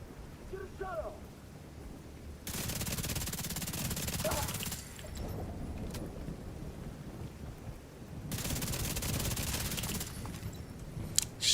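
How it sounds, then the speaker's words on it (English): Gunfire aimed at a turret in a video game comes as two sustained, harsh bursts of rapid shots, each lasting a couple of seconds, separated by quieter stretches of low ambient rumble. "Shooting that turret because it was going to deconstruct"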